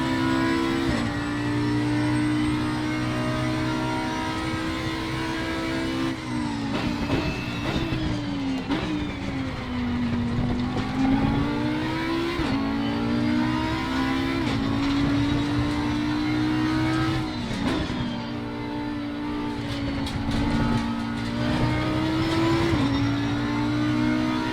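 Audi R8 EVO GT3 racing a lap at Kyalami Grand Prix in Assetto Corsa Competizione, its engine climbing and dropping through gear changes, loud and continuous with no talk over it.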